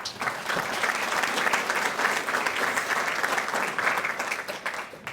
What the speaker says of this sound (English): Another round of applause for Nishi.